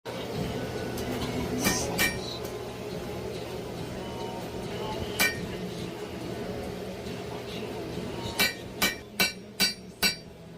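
Hammer blows with a flatter on forged Damascus steel for a hunting knife, a few scattered strikes early then a quick run of five sharp ringing hits near the end, over steady forge roar.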